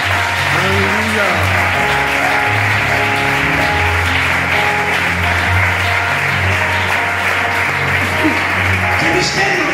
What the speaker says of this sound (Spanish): ¡Aplauda, aplauda, aplauda, aplauda!